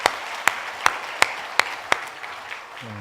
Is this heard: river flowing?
no